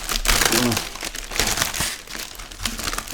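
A plastic bag crinkles and rustles close up in repeated crackly bursts, with a voice speaking briefly underneath.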